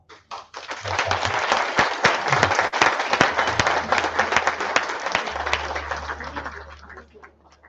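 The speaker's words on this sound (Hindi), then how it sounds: "इसी बात पे जोरदार तालियां बनती हैं" Loud, dense applause from an awards-ceremony audience follows a recited poem, a sustained wash of many hands clapping that swells quickly and holds for several seconds before thinning out, with a low steady hum underneath.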